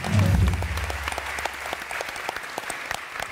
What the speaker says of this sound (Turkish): alkış alalım